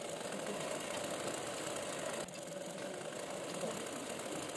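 Sewing machine stitching the lining and main fabric of a kids' langa jacket together, a steady mid-pitched motor hum and rapid needle chatter running continuously with a brief dip midway.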